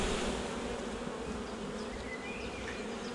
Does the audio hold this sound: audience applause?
no